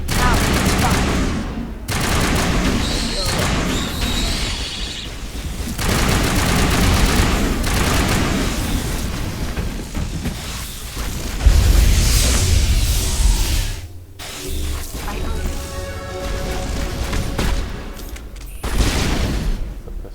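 Pistol gunfire in a Mass Effect firefight, with loud bursts of shots and booming impacts running throughout and a voice speaking over the battle.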